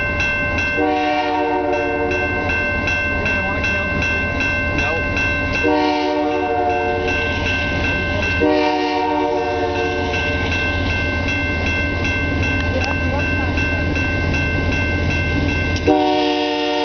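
A slow freight train rolls past with a steady rumble and clatter while its horn blows several long, loud chords in repeated blasts close by, over a mechanical drone.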